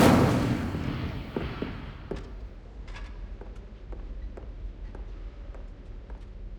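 Incendio fire spell cast in Hogwarts Legacy: a loud whooshing burst at the start that fades over a couple of seconds, followed by a scatter of sharp crackling ticks and pops.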